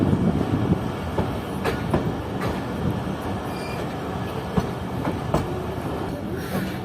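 The Jaffer Express stands at the platform of Mach railway station in Pakistan, with a continuous low rumble of the train and station activity, faint clicks and clanks throughout at moderate distance.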